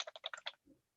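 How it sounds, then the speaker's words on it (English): Rapid burst of about half a dozen crisp key presses on a clicky computer keyboard, close and distinct, followed by a softer low thump as typing stops. "I've got a really clicky clacky keyboard today."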